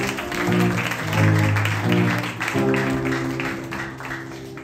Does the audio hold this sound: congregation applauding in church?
yes